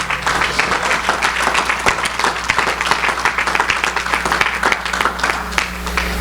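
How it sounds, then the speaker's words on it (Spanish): A church congregation applauds, dense sustained clapping from many hands, loud and continuous across the whole stretch. "Un aplauso al Señor."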